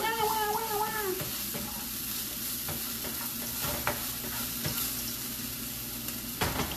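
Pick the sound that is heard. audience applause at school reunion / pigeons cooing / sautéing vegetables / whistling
sautéing vegetables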